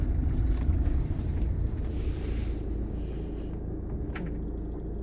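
A camper van drives along a coastal road near Stintino in northern Sardinia, its engine and tyre rumble steady and close, mixed with wind buffeting, and no voices are heard.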